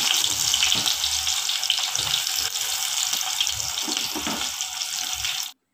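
Beef and Chinese potato stirred in a cooking pot, giving a steady wet sizzle and bubbling with faint scraping knocks underneath, close up and unbroken until it stops abruptly, with no voices.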